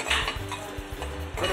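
Coriander seeds, black pepper and cumin dry-roasting in a heavy-based pan, with rhythmic scraping and stirring strokes of a utensil against the metal, close and alone, soft seeds rustling between strokes.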